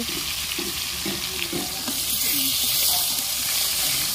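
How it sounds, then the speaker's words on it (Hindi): Small pond fish fry in hot oil over a village stove on a rainy day, giving a loud, steady sizzle and hiss with soft bubbling underneath and faint background sounds. "तेल पूरा गरम आउ माछ भी चुलटा टिके जोर जलिया दरकार जेहेतु माछ भजाटा"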